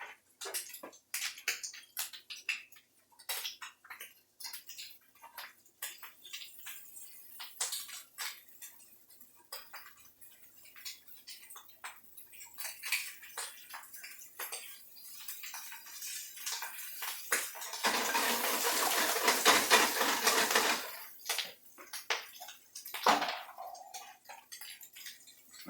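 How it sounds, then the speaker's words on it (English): Shrimp sizzle in a hot pan with a steady crackling hiss, joined by clinks of a utensil against the pan and a louder burst of spitting and sizzling near the end. "You've been hearing this sizzle."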